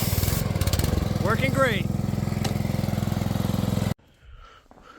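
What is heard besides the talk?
DeWalt 3400 PSI pressure washer running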